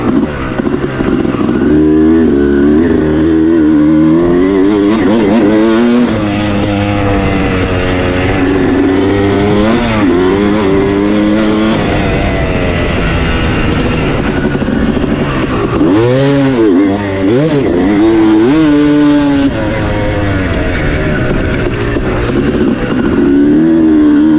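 A 2006 Kawasaki KX250 two-stroke dirt bike on a turn track, its engine loud and close throughout, revving up and down in continuous waves as it accelerates and backs off through the corners.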